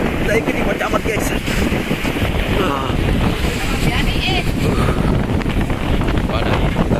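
Strong storm wind blasting over the North Napa coast on a fishing shelter, a loud continuous roar with heavy microphone buffeting and rough surf mixed in, while people speak under it.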